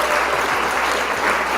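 Steady, close applause from a crowd at a college campus debate, a dense uninterrupted wash of clapping with no voices over it.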